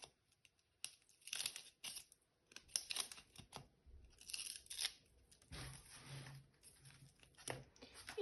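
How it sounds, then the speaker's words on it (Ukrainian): Close, crackly peeling and ripping of double-sided tape in several short pulls, with soft crinkling and handling noises between them in a quiet room. "Відклеїмо скотч."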